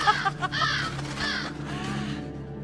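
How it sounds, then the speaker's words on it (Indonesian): A crow caws in several harsh, raspy calls spaced across a couple of seconds, moderately close and standing alone with no talk, over a low steady hum. "Kalian harus menangkap burung gagak."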